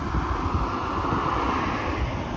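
Water sprays steadily from a lawn sprinkler onto a sidewalk in a suburban neighbourhood during a heatwave, a loud, even hiss that holds without a break for the whole stretch, with no voices heard.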